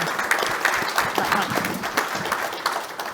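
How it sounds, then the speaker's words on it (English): Applause from an audience at a panel discussion, a steady mid-level wash of clapping throughout the short stretch, with faint voices beneath. "Round of applause for that one?"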